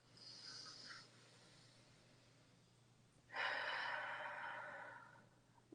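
During breathwork a person takes slow, deep, airy breaths close to the microphone: one breath of about a second, a quiet pause, then a longer, louder breath that fades over two seconds.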